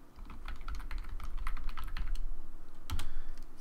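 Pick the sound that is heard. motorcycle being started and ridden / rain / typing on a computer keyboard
typing on a computer keyboard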